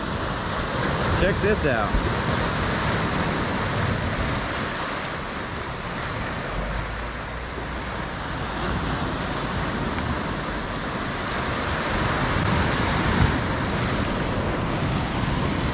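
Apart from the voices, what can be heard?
ocean waves at a beach, Sayulita, Mexico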